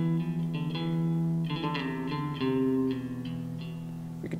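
An instrument plays a short scale in the Phrygian mode, a sequence of sustained, slightly overdriven notes stepping along steadily at moderate volume with no voices over it.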